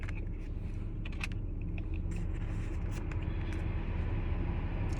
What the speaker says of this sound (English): Sorry guys, if it gets loud, it's my AC. I'm in the car